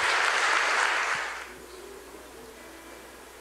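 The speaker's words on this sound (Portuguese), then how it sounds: "Vamos aplaudir o nosso Deus." A church congregation claps in a short burst of applause that fades out after about a second and a half, leaving a quiet room.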